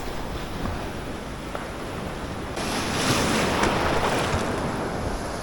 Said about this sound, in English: Yeah, that water's slapping the hell out of me.